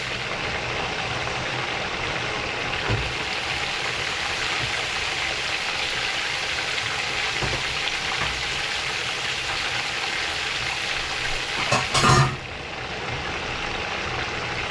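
Fried chicken sizzles steadily in a hot pan of oil for an arroz con guandules y pollo frito meal, a constant close crackle with a brief clatter near the end.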